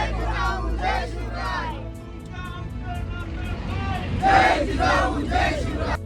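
A large crowd cheers and chants at the Raigad coronation festival of 2023, loud massed voices swelling in waves with shouts rising near the end over a low background rumble.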